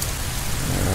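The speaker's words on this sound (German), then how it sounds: "Es regnet." Steady rain with a faint rumble of thunder in the video game Minecraft, a dense, even hiss that fills the moment with no voices.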